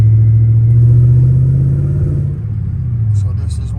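A car engine running on a Megasquirt tune during its first drive gives a steady, low, loud rumble inside the cabin, easing slightly partway through while people talk over it.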